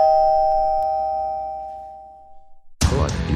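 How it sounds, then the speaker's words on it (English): A doorbell chimes a clear sustained electronic tone at a house's front door, fading over a couple of seconds, then loud outdoor noise and shuffling follow after a brief pause. "someone ring the doorbell again"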